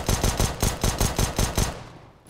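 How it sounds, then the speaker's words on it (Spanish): Pistol shots from Counter-Strike: Global Offensive gameplay, about seven sharp cracks fired in a quick, even rhythm, loud and close, then trailing off into quiet. "dale un par de tiros con la pistolita"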